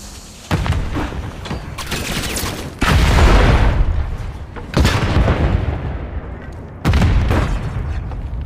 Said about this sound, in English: That grenade was meant for us.